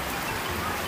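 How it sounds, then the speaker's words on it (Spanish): Steady winter rain falls as a dense, even hiss for a brief moment, with no other clear sounds. "La lluvia cae, el invierno no se quiere ir."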